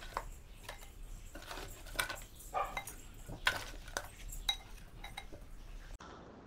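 Hot crab gravy is moved from the cooking pan into another bowl, making faint, scattered clinks and scrapes of a spoon against metal and dishware in a quiet room.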